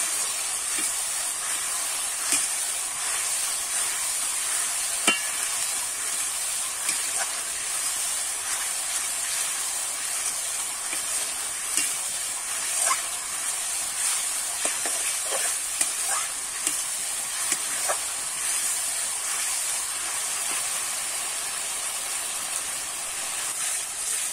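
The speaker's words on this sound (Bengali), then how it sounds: "ভালো করে কিন্তু এগুলো একটু নাড়িয়ে চাড়িয়ে একটু কষে নেব।" Spiced vegetables and green peas stir-fried in a wok give a steady hissing sizzle, broken by scattered clicks and scrapes of a stirring spoon. The sound is continuous and close, with no talking.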